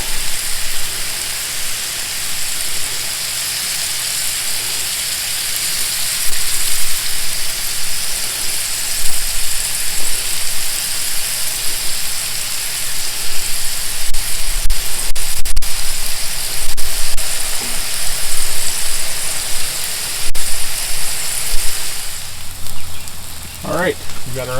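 Bacon and onions fry in a hot pan with a steady, dense sizzle and crackle lasting throughout, fairly close and even in level, with a brief voice near the end.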